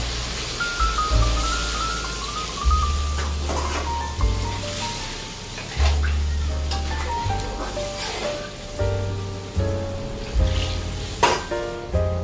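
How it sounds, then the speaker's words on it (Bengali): Potatoes sizzle and fry in a pan in a home kitchen while a utensil stirs them, with steady frying noise, clinks against the pan and low rhythmic thuds throughout. "তবে এরপরে এই আলুটা দিয়ে একটু ভালো করে কষিয়ে নিচ্ছি।"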